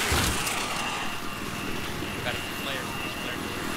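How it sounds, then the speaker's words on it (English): A helicopter in a video game drones with a steady rotor and engine roar across the whole stretch, loud and close, while people talk over it. "We got a heli straight in front of us."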